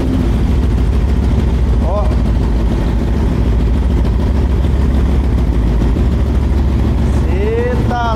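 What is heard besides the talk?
Honda CB300 two-cylinder carbureted motorcycle engine starting and running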